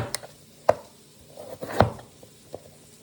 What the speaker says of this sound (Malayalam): അപ്പോൾ നമുക്കിതൊക്കെ ഒന്ന് അരിഞ്ഞെടുക്കാം.